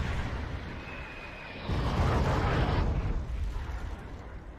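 Artillery shells from Nora units bursting in Wargame: Red Dragon, a loud rumbling blast swelling in the middle and then fading into a low roar.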